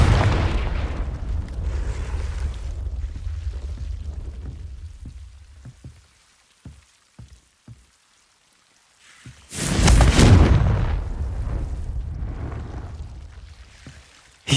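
A Confringo fire-spell blast from the Hogwarts Legacy video game bursts in loud and sudden midway, following rumbling ambience and a few soft thuds, then rolls on as a sustained crackling roar.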